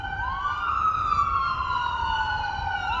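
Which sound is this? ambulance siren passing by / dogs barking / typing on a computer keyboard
ambulance siren passing by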